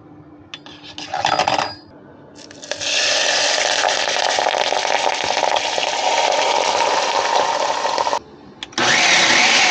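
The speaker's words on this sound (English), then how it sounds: "add it to the blender, and then pour the oil over it and blend it" A blender whirs loudly while blending basil, basil paste and oil, a short burst followed by a long sustained run and a final restart, with rattling inside the jar.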